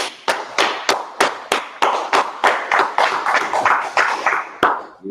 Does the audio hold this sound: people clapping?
yes